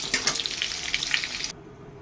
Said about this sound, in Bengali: পেঁপেগুলো দেখুন আমার হালকা ভাজা হয়ে গেছে।